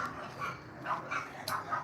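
Several short dog barks and yips in quick irregular succession, moderately close, with a faint background hum.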